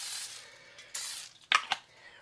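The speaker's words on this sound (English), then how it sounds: "I'm going to give it a quick spray with just some cooking spray." Cooking spray hisses from a can into a bowl in several short bursts, the first two longer, then quick sharp puffs close up, alone without talk.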